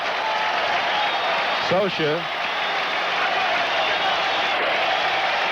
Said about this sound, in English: Now the crowd comes to its feet en masse.